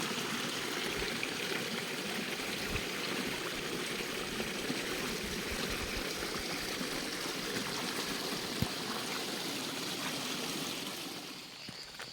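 A small monsoon forest stream runs in a steady, close wash of flowing and trickling water, continuous and even for the whole stretch before easing slightly at the very end; no voices.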